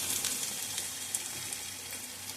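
Chopped tomato tipped into a pan of lightly browned onions for palak chicken, giving a steady close sizzle and frying hiss with faint stirring over the whole short moment.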